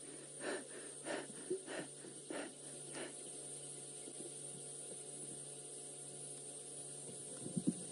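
A male leopard pants five times, rhythmic and breathy, evenly spaced, over a steady low hum, then quiet background with a faint click near the end.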